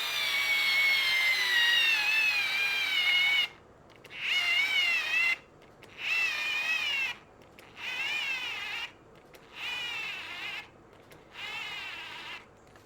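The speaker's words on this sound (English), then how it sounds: "To be able to drive a screw directly into a 2x4, that is not easy." A KATERK 4V cordless screwdriver drives a screw into a 2x4 with a high, whining motor buzz, first one long run and then about five short bursts separated by brief silences, heard close and alone.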